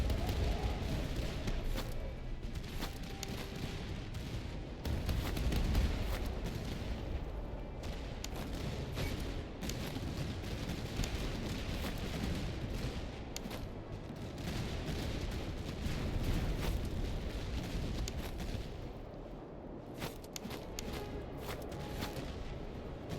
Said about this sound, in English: we'll have the artillery focus on them